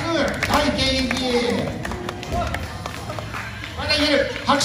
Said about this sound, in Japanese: お客さんの拍手が止まらない。